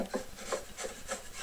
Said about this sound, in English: Just taking a chisel and running the mirror side on the